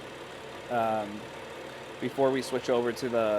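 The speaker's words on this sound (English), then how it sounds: "You could even hear the idling a little bit weird on this" A car engine idles roughly in a low, uneven rumble that runs steadily underneath, while someone talks over it.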